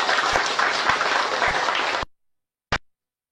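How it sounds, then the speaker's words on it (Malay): A crowd at a Parti Warisan political gathering applauds loudly for about two seconds, then the sound cuts to silence before one brief final burst. "Satu tepukan gemuruh kepada beliau."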